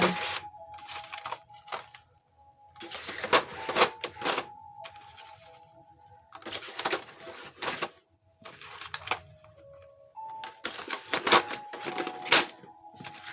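Pencils clatter and rattle into a metal tin in bursts of clinking and scraping, separated by brief quiet pauses.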